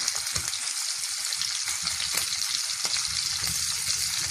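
Lamb ribs frying in a pan give a steady, bright sizzle, close and loud throughout, with faint low pops and spits under the hiss.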